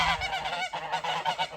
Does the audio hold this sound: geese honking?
yes